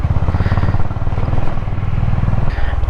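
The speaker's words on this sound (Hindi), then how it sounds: "हल्का हल्का बाइक मूव करता रहना चाहिए," Motorcycle engine chugging at low speed over a rough mountain road between Spiti and Manali, a steady low throb running close and loud throughout.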